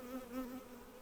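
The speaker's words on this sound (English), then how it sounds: "We've got a yellow jacket and a honeybee fighting" A yellow jacket and honeybees fight at the entrance of a newly installed swarm hive, a brief close buzzing with a wavering pitch that rises and falls over about a second.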